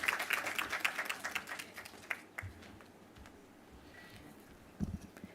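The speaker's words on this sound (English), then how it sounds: "another round of applause for him" An audience at a Jamaican productivity forum applauds a speaker, with a brief burst of clapping that quickly fades to quiet room tone, then a few faint claps near the end.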